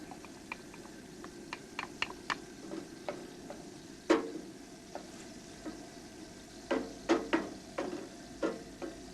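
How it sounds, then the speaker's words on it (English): Onions and garlic hit hot oil in a pan, giving a steady soft sizzle broken by sharp spitting pops and crackles scattered irregularly throughout, close and alone without talk. "we will add some onions into the oil. Right, onions in first, then some garlic."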